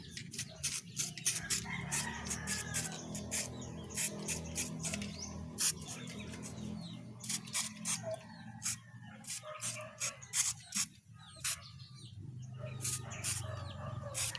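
Backyard chickens cluck and a rooster crows near a jackfruit tree, with repeated sharp, close calls spread across the whole stretch over a low, steady outdoor rumble.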